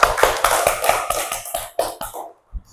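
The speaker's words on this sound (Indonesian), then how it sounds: "Tepuk tangan dulu untuk Dinda dan Gita." A small group of pupils claps in a classroom in a quick, regular rhythm of about ten sharp bursts before stopping abruptly, with a faint tap afterward.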